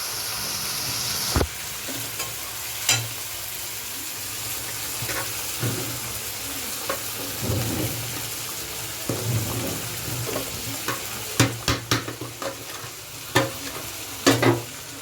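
Potatoes frying in a pan, a soft continuous sizzle near the stove with scattered clinks and scrapes of stirring that grow busier toward the end.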